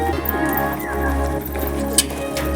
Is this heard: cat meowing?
no